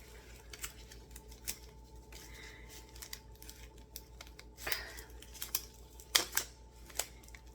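Plastic packaging around a pair of purple reading glasses crinkles and clicks in small, scattered handling sounds, close and faint over a low steady hum.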